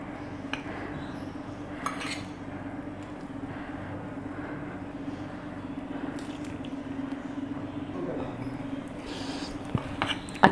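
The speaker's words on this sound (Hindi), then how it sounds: "इन तमाम चीज़ों को इसमें डालने के बाद हम इसको अच्छी तरह से मिक्स करेंगे।" A hash brown mixture is mixed by hand with cheese, capsicum and carrots, giving soft, squelchy, irregular squishes and faint clinks over a steady low hum, close and quiet.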